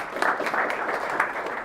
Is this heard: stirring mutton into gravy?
no